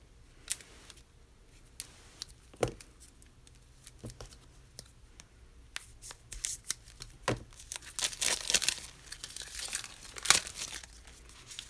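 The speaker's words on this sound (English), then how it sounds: "use my thinner scissors so I don't mess this up" Scissors snip and crinkle through plastic packaging up close, with irregular sharp cuts and rustling that grows busier toward the end.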